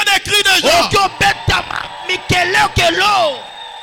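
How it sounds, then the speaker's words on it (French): A church congregation at a French-language morning prayer service shouting and whooping with joy, loud overlapping yells and cries with strong voiced tones, close and energetic. "Est-ce que tu peux pousser des cris de joie?"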